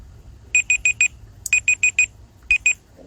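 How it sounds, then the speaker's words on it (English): Kitchen timer alarm going off for a shepherd's pie, a loud, close electronic beeping in quick bursts of four, four, then two beeps with short gaps between. "the timer just ran out on my shepherd's pie"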